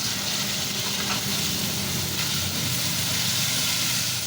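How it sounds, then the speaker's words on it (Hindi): Two sliced tomatoes fry in a pan, producing a continuous, fairly loud hiss of sizzling that runs evenly throughout, with no talking. "यहाँ पे अब मैं 2 टमाटर स्लाइस किए वो डाल देती हूँ, और अब इनको थोड़ा सा फ्राई करती हूँ"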